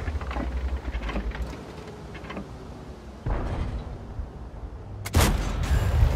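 Heavy tank cannon blasts from a World of Tanks battle on the Sand River desert map, with a T20 in play: a loud deep boom near the start, another thump midway and a sharp, close shot near the end over rumbling battle ambience.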